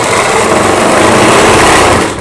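A sewing machine stitches the fabric panels of a Rajputi suit, its motor giving a steady, loud, close whir that runs unbroken and alone for about two seconds before easing off at the end.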